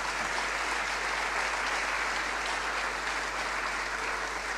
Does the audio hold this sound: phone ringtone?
no